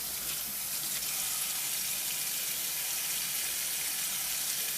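Cold tap water runs steadily over peeled potatoes in a kitchen sink, a constant close hiss of flowing water with no pauses and no talk.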